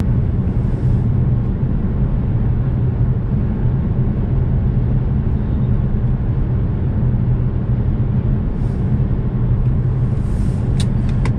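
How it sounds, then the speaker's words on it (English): Steady low cabin rumble of road and engine noise inside a 2019 Nissan Rogue Sport cruising on the freeway at about 60 mph, continuous and even with no talking. "62 decibels here on the freeway going about 60 miles an hour"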